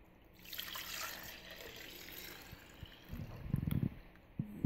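A homemade yogurt mixture made with condensed milk is poured from one container into another, giving a soft continuous liquid trickle that swells into a thicker, splashier pour toward the end, close and unaccompanied by speech.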